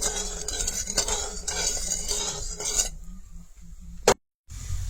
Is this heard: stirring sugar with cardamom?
yes